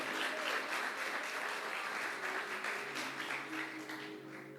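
A church audience applauds together in a steady, dense wash of clapping that holds for several seconds and then slowly tapers, heard from within the room.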